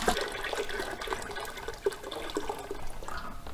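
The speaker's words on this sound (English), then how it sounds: "We're going to fill our pot up with water." Water pours steadily from a sink tap into a homebrewing pot, a continuous splashing fill that runs alone at moderate level with a few small clunks and splashes.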